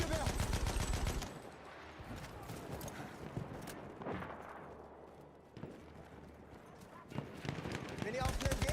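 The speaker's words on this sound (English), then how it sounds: "Ein Maschinengewehr!" Machine gun fire in Battlefield 1 comes in a loud burst at the start, then scattered shots and booms follow at mid distance, with voices talking over part of it.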